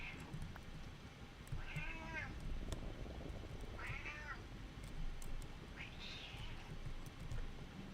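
A female domestic cat meows three times at a steady spacing, each call clear and fairly close, over a constant bed of busy Minecraft game sound.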